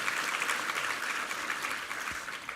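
A church congregation applauding the choir and its conductor at a Sunday service, steady fairly faint clapping from many hands that runs throughout without a break.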